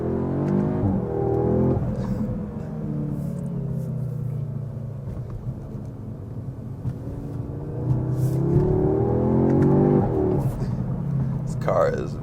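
A 2025 Audi S3, all-wheel drive, in manual mode, engine rumbling and revving in long swells with a few crackling exhaust pops, heard from inside the car while a person talks over it.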